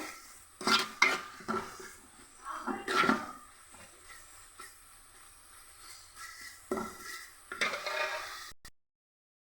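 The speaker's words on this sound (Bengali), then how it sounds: "পেঁয়াজ মশলা আমি ভালো মতো ভেজে নিচ্ছি" Onion and spices are fried in a pan for a vegetarian mixed-vegetable dish, with intermittent bursts of spatula scraping and clinking over a faint sizzle before the sound cuts to silence.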